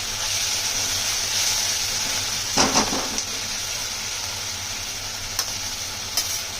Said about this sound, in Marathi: मीठ टाकून परतायचं. त्याच्यामध्ये टाकते मी टोमॅटो.